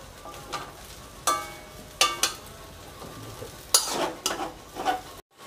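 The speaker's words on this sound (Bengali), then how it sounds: "আমাদের ডিমটা ঢেলে দেওয়া হয়ে গেছে। এবার এটাকে ভালো করে ভেজে নেওয়া হবে।" Poured egg frying in a pan for egg chowmein, a soft low sizzle punctuated by several sharp scraping and clanking strokes of a utensil against the pan, close and without talk.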